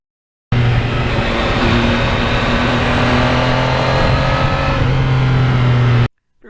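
A 2020 Yamaha MT-09 motorcycle rides along at a steady, loud engine drone that holds constant for several seconds, then cuts off abruptly.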